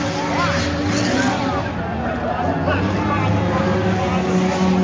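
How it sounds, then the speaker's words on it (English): Race cars lapping Langley Speedway in Hampton, Virginia, during a fall short-track event, loud continuous engine roar with passing whines over crowd noise and a commentator talking. "race leader, car for 41, Richard Ellis."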